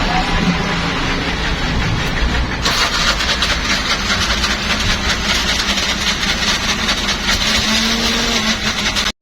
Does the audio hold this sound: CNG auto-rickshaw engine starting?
yes